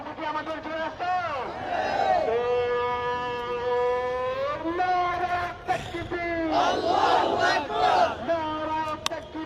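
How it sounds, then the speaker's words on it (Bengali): A large protest crowd at Shahbag chants the "Naraye Takbir" slogan in loud, rhythmic call-and-response waves that rise and fall, close and continuous, filling the street. "নারায়ে তাকবীর স্লোগানে উত্তালে এই মুহূর্তে"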